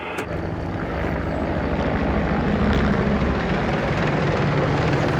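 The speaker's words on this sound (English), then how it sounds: "the attack helicopter's turned up" An attack helicopter flies overhead during frontline military operations, a loud, continuous rotor and engine roar that swells slightly and holds steady, with no voices.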